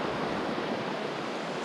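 A river in Arizona rushes past in a steady, broad wash of flowing water that stays even from start to end, with no voices over it.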